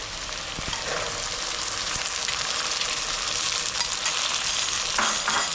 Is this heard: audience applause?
no